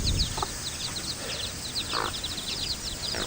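A hen and her chicks cluck and cheep in their pen, with chirps scattered throughout and an occasional fuller cluck, at moderate distance over steady outdoor background noise.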